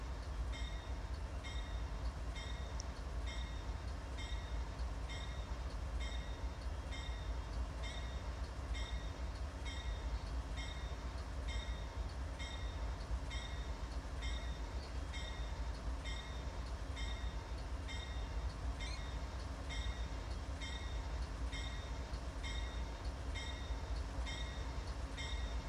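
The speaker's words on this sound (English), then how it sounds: "Starting off the day with Amtrak P-186." In the Roblox game, an Amtrak P42 locomotive leads a train past a simulated railcam at Lee Hall, Virginia, on the CSX Peninsula Subdivision, with a steady, continuous rumble and regular rhythmic wheel clacking throughout.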